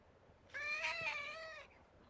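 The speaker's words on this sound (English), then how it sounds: "she's meowing at me" A pet cat gives one drawn-out, whiny meow close by in a quiet indoor room, clear and not masked by any talk.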